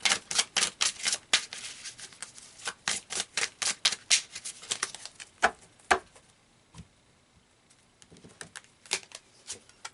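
Tarot cards riffle and snap in fast bursts of crisp paper flutters and taps, close up, thinning out into scattered slaps and clicks as cards are pulled and laid down.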